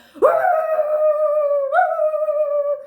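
A person vocally imitates a dog's bark, drawing it out into one long howling, whining call that rises slightly partway through, close and loud with no other sound.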